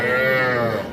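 A young bull at a cattle market lets out a single loud, close moo, a sustained low tonal bellow lasting under a second and tapering off at the end, with no talk over it.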